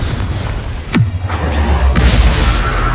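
A Confringo fire spell in Hogwarts Legacy on PS5 erupts as a deep booming blast with a rushing whoosh, sustained rumbling and crackling over continuous game noise.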